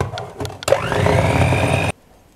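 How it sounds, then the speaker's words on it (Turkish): A mixer whirs steadily through chocolate muffin batter made with flour, cocoa, vanilla and baking powder, starting after a few brief knocks and running loud for about a second before cutting off. "Hepsini iyice çırpıyorum."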